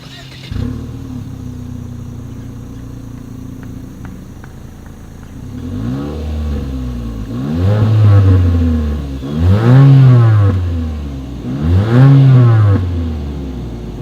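A 2020 Mitsubishi Eclipse Cross exhaust: a quiet idle, then three loud revs rising and falling in pitch at steady intervals, recorded close.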